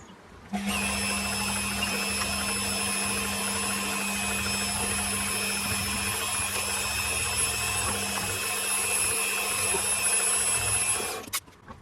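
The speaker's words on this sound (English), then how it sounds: "now I'm going to have to drill some force holes in there" A power drill whines steadily for about eleven seconds, a continuous high-pitched motor drone boring holes into a metal part for a model steam engine, close up and unbroken.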